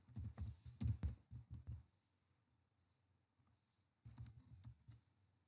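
Quick clicking keystrokes on a computer keyboard while entering Bank Nifty into trading software, typed in a rapid burst, then a pause and a second short run of clicks, faint and close with no talking.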